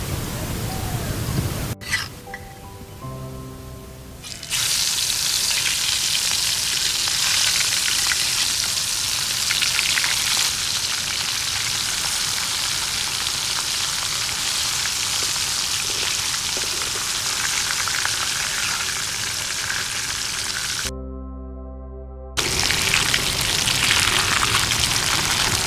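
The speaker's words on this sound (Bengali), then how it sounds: "কড়াইতে দিয়ে দেবো সর্ষের তেল।" Mustard oil poured into a hot wok (kadai) sizzles and crackles steadily and loudly for a long stretch, with a brief break in the middle before the frying hiss resumes.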